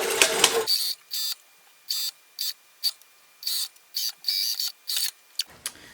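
A sewing machine stitches a 5/8-inch seam on a linen bodice, running from one side seam around to the other in short, rapid bursts broken by brief pauses, close and clear.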